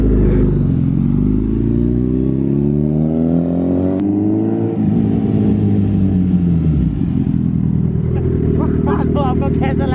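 A Suzuki Hayabusa motorcycle engine revving up and down in repeated rising and falling sweeps, loud and close, with voices breaking in briefly near the end.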